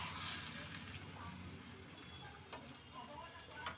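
An egg roll frying in a pan, cooked longer for extra crispness, gives a steady broadband sizzle that runs throughout at moderate loudness, with a few small pops.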